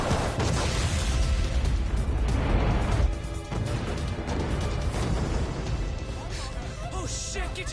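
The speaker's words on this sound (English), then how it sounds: "This ship just exploded!" A ship blows up in the video game Lost Judgment: loud crashing, booming blasts with pops and debris smashing, a heavy rumble throughout, and a sharp burst near the middle before a busy, chaotic din.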